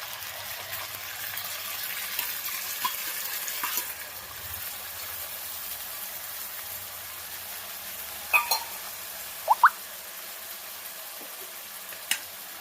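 Onions and tomatoes frying in a pan give a steady, soft sizzle throughout, with a few brief clinks and stirring sounds scattered over it.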